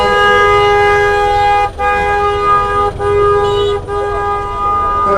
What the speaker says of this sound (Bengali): এত গাড়ি যে আজকে হাটে কোথা থেকে আসতেছে গলার বাইরে হর্ন একদম চাপ দিয়ে ধরে রাখতেছে